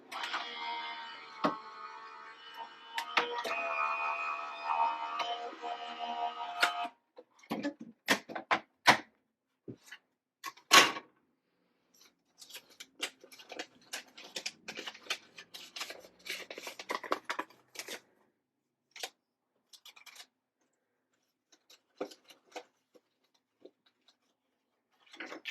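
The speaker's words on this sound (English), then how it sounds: "This is my Sizzix Big Shot switch, so it will be a little loud." A Sizzix Big Shot Switch die-cutting machine running, a steady mechanical whir followed by scattered clicks, ticks and handling knocks, close and moderately loud.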